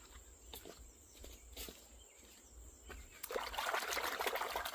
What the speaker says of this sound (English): We're going to wash that really good.